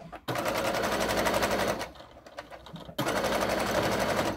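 A sewing machine stitches fabric for a Cricut cover in fast rapid-fire bursts, running loud and steady, pausing briefly in the middle, then resuming at full speed.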